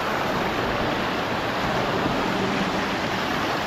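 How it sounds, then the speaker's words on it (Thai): A waterfall at a newly opened tourist spot in Vang Vieng, Laos, roars as a loud, dense, unbroken rush of water filling the whole clip, with no voices. "ตอนนี้ก็มาฮอดน้ำตกเลยเนาะ"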